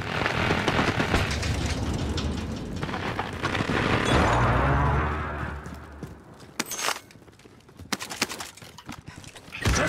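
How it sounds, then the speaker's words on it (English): Precision airstrike explosions in the Warzone battle royale game, with deep rumbling booms rolling through a dense, noisy mix, then a quieter stretch broken by sharp crackling impacts and clatter. "Be advised, friendly precision airstrike inbound."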